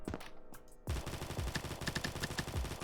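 A MAC-10 submachine gun fires in Combat Master, opening with a few brief shots, then loud, rapid, rhythmic automatic fire with clicking mechanical detail for the rest of the clip.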